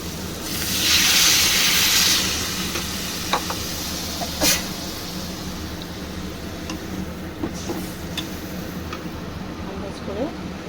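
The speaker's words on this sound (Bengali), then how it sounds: "এবার আমি এর মধ্যে দিয়ে দেবো জল" Water is poured into a hot pan of frying fish-roe curry masala, giving a loud burst of hissing steam that settles into a continuous close sizzle, with occasional stirring clicks and a voice talking over it.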